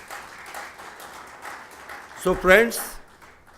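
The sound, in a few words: audience applause welcoming the speaker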